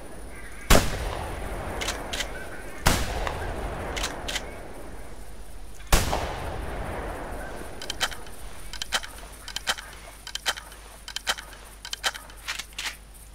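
Gunshots in theHunter video game while hunting mallard ducks: three loud, sharp shots spaced a couple of seconds apart, followed by a run of quicker, fainter pops and clicks.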